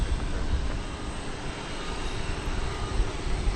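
A Frontier Airlines plane at Dallas Fort Worth Airport, heard as a steady, broad engine roar that stays loud and constant throughout without any voices.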